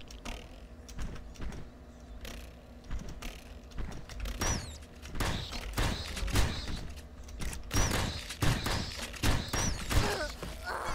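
Video game shotgun fire: a series of sharp, punchy blasts mixed with mechanical clacks and reload clatter, coming in uneven clusters over a rumbling background.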